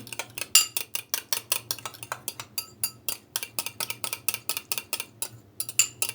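Fork stirring a yeast and egg white mixture in a bowl, a quick run of sharp metallic clinks and scrapes repeating in steady rhythm, close and alone.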